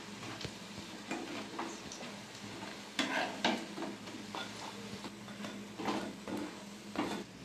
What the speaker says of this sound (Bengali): বাকিগুলো আমি ভালো করে ভেজে নেবো, কড়া করে